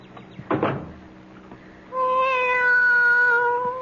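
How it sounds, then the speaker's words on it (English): A cat meows in a 1974 CBS radio mystery drama, heard as a single long, clear, tonal meow rising and holding near the microphone, preceded by a soft thump like a door. "Be quiet, cat."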